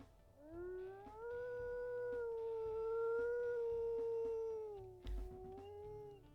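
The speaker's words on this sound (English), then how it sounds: "Then let's listen to his howls." A wolf pup howls in the video game WolfQuest with a single long, sustained, slightly wavering howl that rises, holds and then fades, clear and alone, followed by a brief soft thump.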